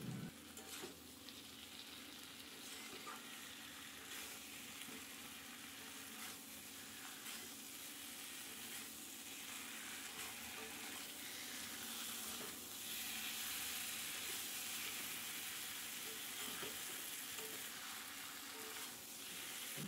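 Spiced potatoes and jackfruit fry and get stirred in a pan for an echor chingri dish, giving a steady close sizzle with scraping stir strokes throughout and no talk.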